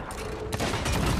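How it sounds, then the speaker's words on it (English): Cannon blast in a pirate video game, a loud close boom with a sharp attack midway, over a thick rumbling battle background. "Hit the guy with cannon."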